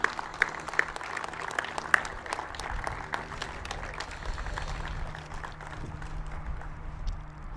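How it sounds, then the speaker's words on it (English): An audience at an aviation education center ribbon-cutting ceremony applauds its founding donors, with steady dense clapping held at moderate volume and a few sharp claps standing out near the start. "give them a round of applause"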